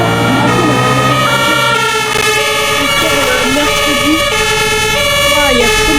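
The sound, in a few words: fire engine siren in a video game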